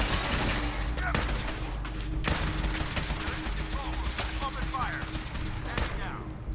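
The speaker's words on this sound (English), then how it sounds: "it doesn't help when they get close up and personal with their automatic pistols" Rapid automatic pistol gunfire from close-range enemies in Fallout 4, dense bursts of sharp shots crackling continuously throughout, with occasional heavier reports layered in the firefight.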